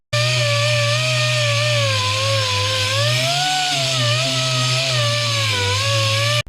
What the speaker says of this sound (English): I'm just going to go over with the miniature DA sander